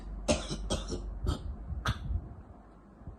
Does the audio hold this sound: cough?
yes